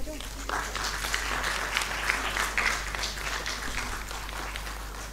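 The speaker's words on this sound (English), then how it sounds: "A huge round of applause, please." A conference audience applauds steadily, dense clapping sustained throughout with a constant low hum underneath.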